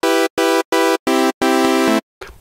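Retrologue 2 software synthesizer on its init patch with a single sawtooth oscillator, playing five loud, buzzy sustained notes in a short rhythmic phrase with brief gaps, the last note held longer.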